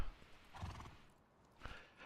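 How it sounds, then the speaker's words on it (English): Horses in the survival game Rust give two bursts of whinnying and neighing with clip-clopping hooves, fairly close and loud, separated by a brief quieter pause. "Just an obscene amount of horses down here."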